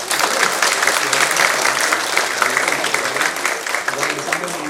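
Audience at a Universiti Teknikal Malaysia Melaka (UTeM) event with the Vice-Chancellor applauds in a dense, steady burst of many hands clapping, loud and close, with faint talk mixed in.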